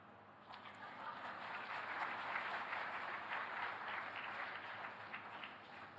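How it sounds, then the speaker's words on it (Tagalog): Polite applause from an audience in the Centennial Hall of the Manila Hotel, fairly faint and distant, swelling and holding steady for several seconds. "Sige, palakpak."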